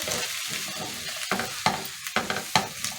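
Whole garlic and ginger sizzle and crackle in hot oil in a pan, with steady frying hiss broken by several sharp stirring scrapes in an uneven rhythm, close and alone with no talking.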